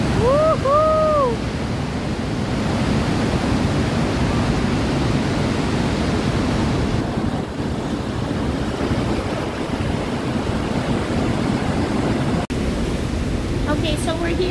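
A steady, loud roar of falling water fills the tunnel behind Niagara Falls, broadband and unbroken throughout, with a brief whoop of voices at the start and faint chatter near the end.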